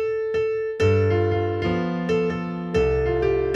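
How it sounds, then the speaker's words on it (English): Solo piano with the left hand striking chords on the downbeats. Loud, close, sustained chords ring under a repeated treble melody note, with strong attacks at each beat over a few seconds. "So many beginners play their left hand on downbeat."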